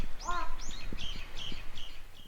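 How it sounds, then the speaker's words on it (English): About six harsh, cawing bird calls, taken to be a crow, ring out overhead in a forest, moderately loud and evenly spaced over faint background noise. "a crow caws directly overhead"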